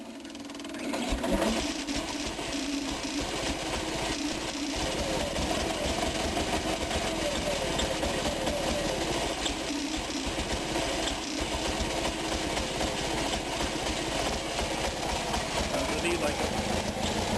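A small Onan engine idles steadily through its carburetor adjustment, a continuous low rumbling drone with a fine rapid vibration running the whole time, while a voice speaks over it.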